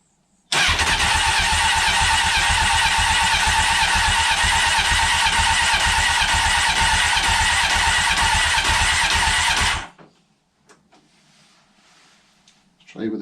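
A Honda CBR900 Fireblade motorcycle, neglected for about a decade, cranks and runs loud and close for roughly nine seconds with a steady rough engine roar, then cuts out abruptly, leaving faint handling noises and a brief sound at the end.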